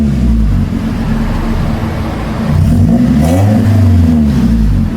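A car with a 1.6-liter supercharged engine revs from inside the cabin, a loud, close low engine drone that climbs and swells in pitch partway through and then holds at a higher whir.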